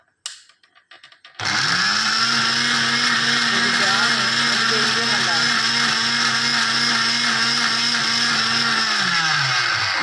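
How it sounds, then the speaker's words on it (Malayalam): Electric mixer grinder whirring loudly and steadily as it grinds dried moringa leaves, starting abruptly after a moment of quiet and running continuously at close range. "മിക്സിൻ്റെ സൗണ്ട് കേൾക്കുന്ന ഇഷ്ടമല്ല"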